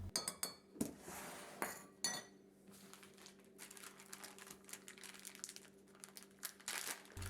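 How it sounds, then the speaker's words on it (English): A measuring cup scrapes and clinks against the lip of a sugar container, with faint close rasping, crinkling granules and small knocks at low volume. "I'm going to level the sugar by scraping the cup on the lip of the container."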